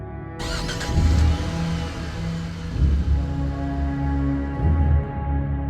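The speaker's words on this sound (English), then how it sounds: "I forced myself to start the car again, my fingers shaking as I turned the key. The engine rumbled to life" A car engine starts with a sudden burst, then settles into a low, steady rumble with a few heavier surges, close and alone.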